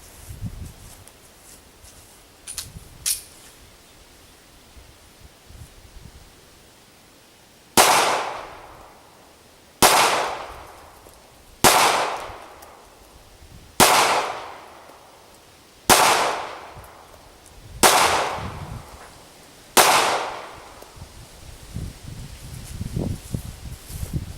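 Ruger LC9 pistol fired outdoors, seven sharp loud shots spaced about two seconds apart, each with a short trailing echo, no talking.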